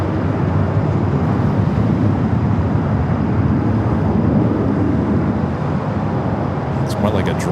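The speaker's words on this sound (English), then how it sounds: "It's a Dreamliner. The second flight, Air New Zealand, a Dreamliner." An Air New Zealand Boeing 787 Dreamliner jet at LAX airport gives a steady, loud broadband roar that holds evenly throughout, with a brief higher rattle near the end.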